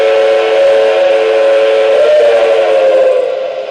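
A model train sounds a steady, loud steam-style whistle, one sustained blast with a slight pitch bend that tails off at the end.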